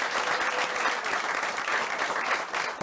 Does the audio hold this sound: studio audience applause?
yes